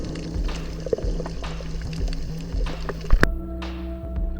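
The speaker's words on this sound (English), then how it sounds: "I just love the way these fish sound underwater as they swish past you" A dense school of bait fish sweeps by underwater: soft low rushing and bubbly swishes with a few sharp clicks and a louder burst near the end, close to the listener.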